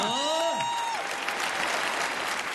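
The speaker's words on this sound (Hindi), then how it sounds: "जोरदार तालियां" Loud applause from a crowd, dense clapping that swells right away and keeps a steady level, with a brief descending whoosh-like tone at the very start.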